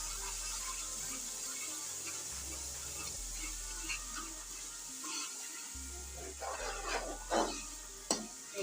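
Spiced gram flour batter with ground garam masala and turmeric being stirred in a pan, a steady soft scraping and swishing with faint sizzle beneath, growing a little busier with a few sharper clinks toward the end.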